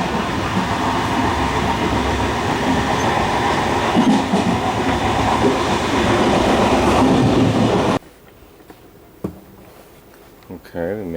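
Passenger train riding from Antibes toward Nice, heard from inside a crowded carriage as a loud, steady rumble of wheels and rails that cuts off abruptly near the end, leaving quieter interior noise.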